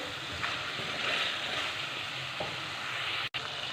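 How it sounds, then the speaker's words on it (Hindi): Fried chicken is stirred into masala spices in a karahi, giving a soft, continuous sizzle with scraping stir strokes, fairly quiet and close. "अब इसमें शामिल कर देंगे फ्राई किया हुआ चिकन। इसको मसाले के साथ अच्छी तरह मिक्स करेंगे।"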